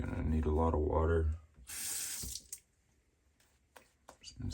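Water running from a tap into a sink, a steady hiss for about a second that cuts off into quiet drips, after a low hum at the start.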